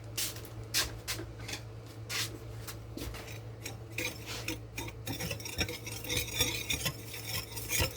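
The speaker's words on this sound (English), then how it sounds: "I'm first going to mix these together." Cake batter with homemade vanilla extract being mixed by hand, with rapid, close scraping and ticking strokes of a utensil against a bowl, continuous and slightly busier toward the end.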